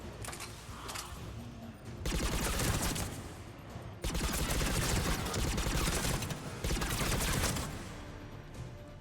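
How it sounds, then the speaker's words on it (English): A plasma rifle fires in the video game Mass Effect 3 in long sustained volleys of rapid shots. Two loud, dense stretches are separated by short pauses, with steady battle noise throughout. "I just realized I'm using the new plasma rifle"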